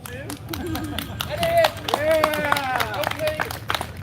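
A handful of people clap sparsely at a casual meet and greet, giving thin, scattered claps mixed under lively talking voices close by.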